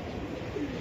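A Giribaj pigeon gives a single short, soft coo, faint against a quiet background.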